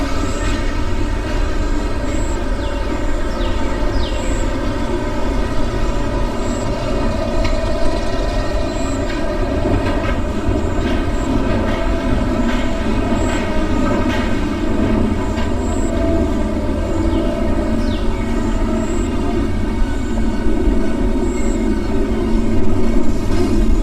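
A roller coaster train runs on the Nemesis ride in a video game, making a steady, loud rumbling roar with faint rattling clicks throughout, continuous and unbroken.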